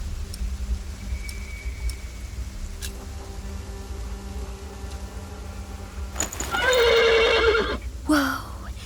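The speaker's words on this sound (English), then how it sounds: "The horse nearly woke the guard." In the video game The Pillars of the Earth, a horse lets out a loud, close whinny near the end, breaking a quiet, humming background, followed by a brief second snort-like cry.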